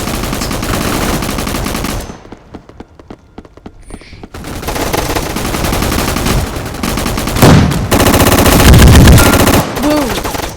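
Loud, dense gunfire from a gun fight video game: rapid machine-gun bursts and single shots roll on almost continuously, with a short quieter gap early on and heavy impacts near the end.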